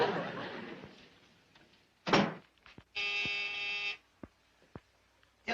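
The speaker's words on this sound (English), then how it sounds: "Call the service and have them put through a beep for me." An answering service line gives a steady electronic beep lasting about a second, set among quiet room sounds and a few knocks, with no talk over it.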